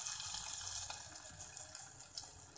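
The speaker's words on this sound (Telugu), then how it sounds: "లాస్ట్లో కొన్ని వాటర్ యాడ్ చేసి" Water poured from a tap into cooked dal with brahmi leaves, a soft steady splashing stream that wavers slightly, faint and close, with no voices.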